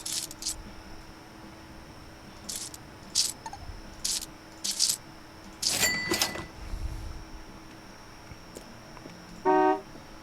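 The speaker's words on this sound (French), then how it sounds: "Qui c'est qui a klaxonné?" A car horn gives one short honk outdoors on a street, standing out after scattered hissing and background traffic noise.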